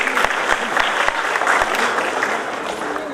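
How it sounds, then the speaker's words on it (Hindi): Vigorous audience applause at a Dr. Ambedkar Jayanti gathering, dense clapping with sharp individual claps standing out, loud and steady before easing slightly toward the end. "जोरदार ताली"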